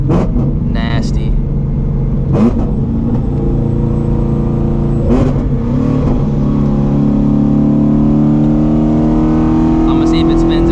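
Supercharged Shelby GT350 Mustang running E85 accelerates hard with wheelspin, the engine rising and falling through loud, steady revving pulls that dominate the whole stretch, with brief sharp bursts and no voices.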